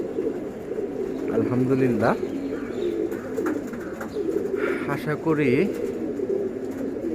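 Pigeons raised for flying, a flock of young birds, coo in repeated throaty rolls close by, with someone talking over much of the sound.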